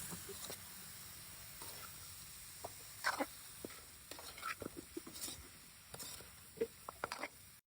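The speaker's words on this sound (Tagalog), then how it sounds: "Then ibalik na natin dito yung ating pata. So bale, igisa-gisa muna natin dito para ma-absorb nung karne yung amoy ng ating mga aromatic" Pork hock (pata) sautéed with garlic and onion, a quiet low sizzle with scattered light stirring clicks and scrapes.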